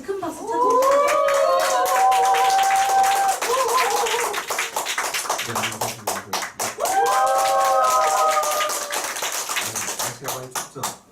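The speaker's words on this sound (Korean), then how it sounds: "사장님께 큰 박수 쳐주세요" An audience at a Korean Nu Skin business training session claps in a steady, rhythmic beat, with sustained tonal music or singing running over the clapping.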